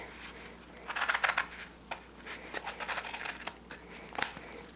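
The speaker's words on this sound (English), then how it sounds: "now all I'm going to do is cut it off of here" Scissors snipping through glued felt for a homemade animal Muppet mask, a series of close, crisp irregular cuts and rustles in a quiet room, with a sharper click near the end.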